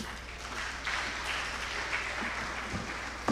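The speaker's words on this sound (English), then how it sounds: "Please make that applause better" Steady applause from a crowd, a continuous wash of clapping with no voices on top.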